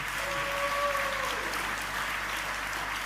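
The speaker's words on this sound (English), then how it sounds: "please keep that applause going to thank Minister Nat Cook for presenting those awards" Audience at the South Australia Australian of the Year Awards ceremony keeps up sustained applause, a soft, even roar of many hands heard from a distance, with a faint sustained tone briefly above it.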